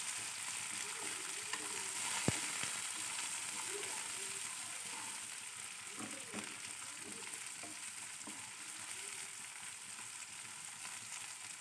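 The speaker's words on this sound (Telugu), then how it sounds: "కొద్దిగా కట్ చేసి పెట్టుకున్న క్యారెట్, కొద్దిసేపు ఇలా వేయించుకోండి." Green peas and chopped carrots fry in a pan for a poori curry, sending up a continuous moderate sizzle with occasional stirring scrapes and taps.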